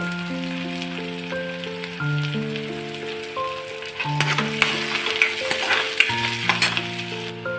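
Onion, garlic and green chilli frying golden brown in a pan, a continuous crackling sizzle with stirring, growing busier midway, heard under soft background music and no talking.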